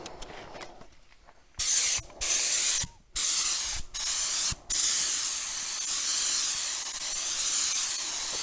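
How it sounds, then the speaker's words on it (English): An HVLP spray gun atomizing paint onto interior walls gives several loud hissing bursts, each lasting about half a second to a second, followed by a longer sustained spray hiss with quiet gaps between triggers. "the fumes of the paint, which will be atomized by the spray gun"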